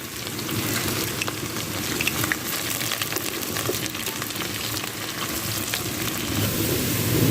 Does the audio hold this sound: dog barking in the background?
no